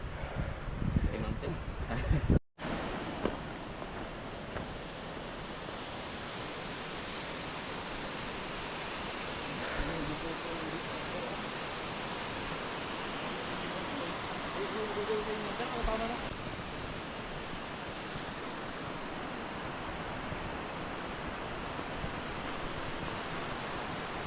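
Balangikog Falls in Baungon, Bukidnon, heard as a steady, broad rush of falling water, loud and continuous throughout after a brief cut near the start.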